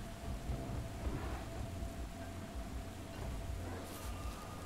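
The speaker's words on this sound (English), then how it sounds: "Oh, it's raining. When it rains underground, it pours underground." Rain pours underground in the mining video game Deep Rock Galactic, a steady wash of noise with low rumbling underneath, fairly faint and continuous, with no talk.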